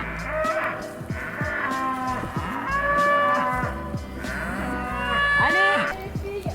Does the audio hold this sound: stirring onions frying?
no